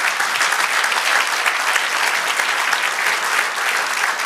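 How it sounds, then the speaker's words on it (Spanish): A church congregation breaks into loud, sustained applause, dense clapping filling the room evenly from start to finish with no talking over it. "si le va a dar un aplauso"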